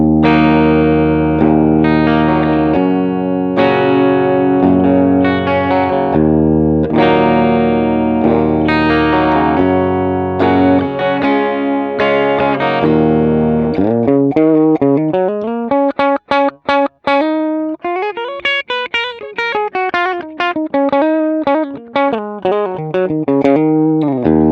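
Clean electric guitar played through a Valeton GP-200 multi-effects unit on its Fender Bassman amp model with no distortion, sounding loud and alone: strummed chords first, then a run of quick single picked notes.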